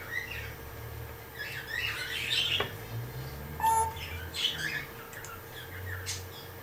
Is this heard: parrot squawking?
yes